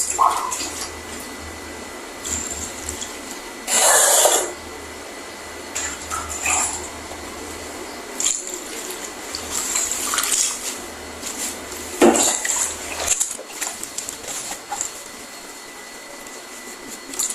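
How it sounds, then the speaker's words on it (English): A wig is rinsed again under running water, with intermittent splashing and sloshing bursts, one loud spray early on, and quieter handling sounds between them. "So I'm going to rinse again because it's still soapy."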